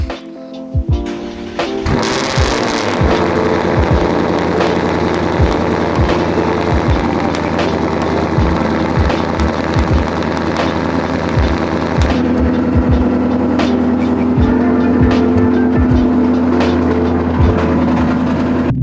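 A 2024 Ford Mustang GT V8 warming up: a loud, continuous engine rumble at a steady high idle, close by, with the pitch settling lower partway through.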